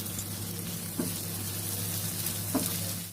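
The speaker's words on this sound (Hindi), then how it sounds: "1 मिनट इसे फ्राई करेंगे।" Ingredients frying in desi ghee for a chicken makhni handi, giving a steady soft sizzle with a low hum underneath and a couple of brief stirring knocks, close and fairly quiet.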